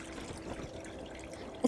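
Small mountain spring trickling water: a faint, steady, low trickle and dribble heard close and alone, with a brief sharper splash at the very end.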